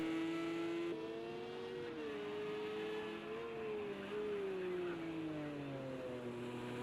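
A Porsche race car circulates a Texas track, its engine a steady, sustained drone whose pitch rises and falls with gear and throttle changes, heard at a distance with no commentary.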